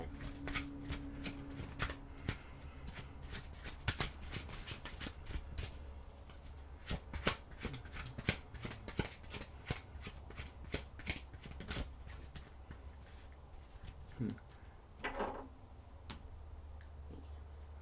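Tarot cards are shuffled repeatedly by hand, a long run of crisp riffling snaps and soft slaps close to the microphone, with a few faint knocks and no speech.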